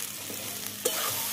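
Cauliflower stems with salt and turmeric get stirred as they fry in a pan for a Bengali chorchori, with a soft steady sizzle and one brief scraping stir near the end.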